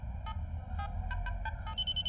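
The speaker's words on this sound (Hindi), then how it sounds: "दूसरा कस्टमर है, फोन उठा लेता हूँ।" A telephone ringing with short electronic tone bursts repeating in quick irregular pulses over a steady low hum, ending in a sustained higher ring tone, close and fairly loud with no talking.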